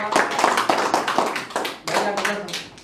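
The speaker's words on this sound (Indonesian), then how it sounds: "Ya, tepuk tangan dulu." Audience applause at a classroom group presentation session, a dense burst of many hands clapping close and loud, with brief dips as the clapping swells again, and faint voices underneath.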